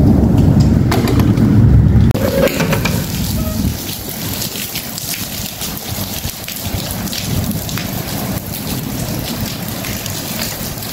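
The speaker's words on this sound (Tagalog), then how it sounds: "Kumukulog, kumukidlat." A loud burst of rain and rumbling thunder opens during a storm in Saudi Arabia, then settles into steady heavy rainfall with scattered drops pattering nearby.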